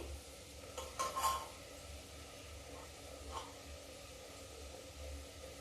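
Vegetables are stirred into half-cooked potatoes in a pan, producing soft scraping and a faint low sizzle, with a couple of brief clatters early on and quiet background hum.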